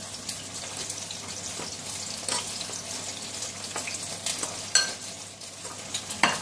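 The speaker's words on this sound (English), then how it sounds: "While waiting for the tofu to fry" Tofu fries in hot oil, giving a steady close sizzle with occasional crackles and pops and faint stirring noises, while noodles are prepared with hot water nearby.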